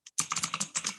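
Rapid clicks of typing on a computer keyboard, close and clear, about eight quick keystrokes after one isolated tap, with no voices.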